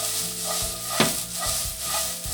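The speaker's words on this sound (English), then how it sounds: "I'll add the onions and of course the pan has been preheated" Onions sizzle steadily in a preheated pan, a continuous bright frying hiss with a few soft stirring knocks, one sharper tick near the middle, no voices.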